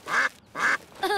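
Cartoon duck quacking in a children's animated show, two drawn-out nasal quacks in a row followed by a shorter one, loud and close with no talking over them.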